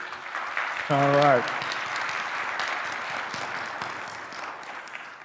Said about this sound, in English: Brief applause for your school, real quick.